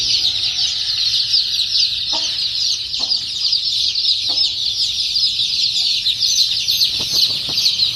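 A brood of four-day-old Giriraja chicks peeping nonstop, a dense shrill chorus of many high cheeps close by, with a few faint thumps and clucks underneath.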